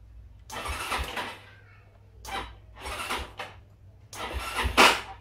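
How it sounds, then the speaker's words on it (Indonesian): A Yamaha Xeon scooter with a faulty one-way starter clutch cranks in several separate attempts, each a short burst of harsh grinding and rattling cracking, the last the loudest, close to the microphone. "Ini kalau di starter ini bunyi jerak jerak jerak"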